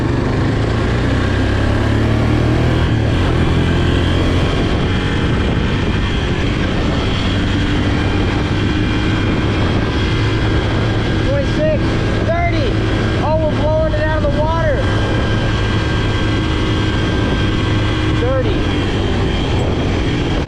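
A Honda Fourtrax ATV with a new carburetor runs flat out near 30 mph, its loud, unbroken engine drone mixed with wind buffeting and a few rising whines.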